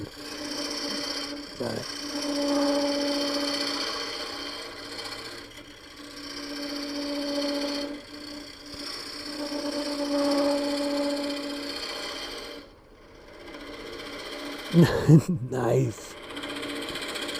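A wood lathe turning a coffee scoop, with a steady hum and a scraping cut that swells and fades in repeated passes, a brief clatter near the end, and a person speaking briefly.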